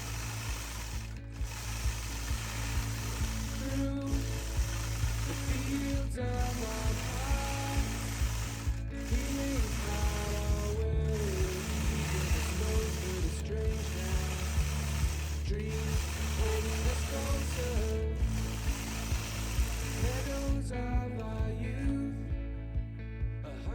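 A sewing machine quilting a swirl design across quilt sashing, running in a steady, loud mechanical rhythm with regular stitching pulses and a brief pause near the end.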